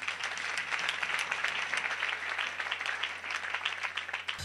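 Steady crowd applause at a church charity event for orphans in a camp, many hands clapping continuously and evenly at a moderate distance, with no talking over it.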